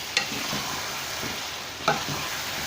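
Qeema matar, minced meat with peas, simmers in a pot over low heat with a soft, steady sizzle, punctuated by two brief clinks of stirring.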